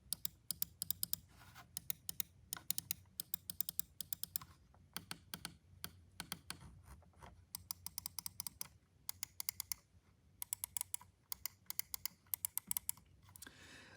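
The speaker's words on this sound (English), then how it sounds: "Now, as far as the clicks go, here's what they sound like." Sharp, quiet button clicks from a Logitech G703 gaming mouse come in quick bursts and rapid runs with short pauses, heard close up with no talking.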